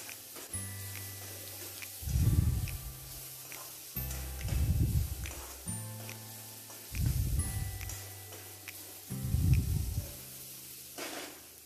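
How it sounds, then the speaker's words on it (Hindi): Spices sizzle in a pan while fried roti is being made, soft frying hiss swelling into four rhythmic bursts as the mix is stirred, quiet and close, with faint talking. "अब इनको अच्छे से मिक्स करके ये मसाले थोड़े से फ्राई करेंगे।"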